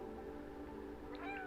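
A cat meows in the video game Stray, a couple of short, faint mews arriving near the end over a quiet, steady background hum, with no speech.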